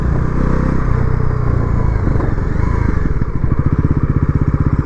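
A Bajaj Pulsar NS400Z motorcycle is ridden at speed with a loud, close engine drone and wind rush, and the exhaust turns into rapid, distinct pulsing beats toward the end.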